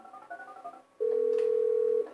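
An in-game phone in GTA V dials a contact, with a short run of soft tones followed by a loud, steady, single-pitch tone held for about a second.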